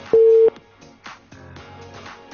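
After a phone-in call drops, a single steady telephone tone sounds briefly and loudly, then gives way to faint voice-like sounds.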